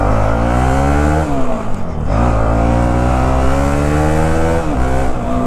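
Bajaj NS 200 motorcycle fitted with a Duke 390 exhaust, running close and loud and accelerating through the gears, with sharp dips at each shift before the engine climbs again.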